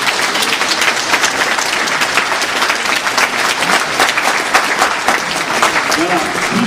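Audience at an outdoor live nativity scene on Christmas Eve in Sarrancolin, clapping loudly and continuously in a dense crowd with some voices mixed in.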